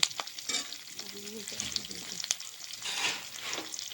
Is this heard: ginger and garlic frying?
yes